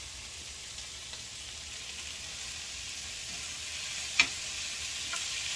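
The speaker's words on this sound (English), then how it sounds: "So the onions and peppers are getting a nice caramelization on them." Onions and peppers caramelizing in a pan for Guyanese cook-up rice: a steady, quiet sizzle and hiss throughout, with one brief sharp tick partway through.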